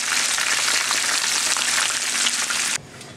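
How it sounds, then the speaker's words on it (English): Mushrooms frying crispy in a pan, a loud dense crackling sizzle running steadily close up, then dropping off abruptly near the end, with no talking. "Okay, now we've cooked these mushrooms on this side, and you take your little forko, start turning them all over."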